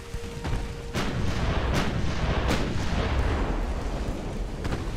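Warship guns firing in the Ultimate Admirals: Dreadnoughts naval video game, heavy booms and sharp reports repeating irregularly over a loud, continuous battle rumble.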